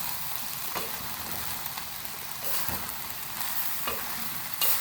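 Rice being stirred in a pan with wooden spoons, soft scraping and rustling strokes with occasional clacks, close and fairly quiet, steady through the moment with no voices.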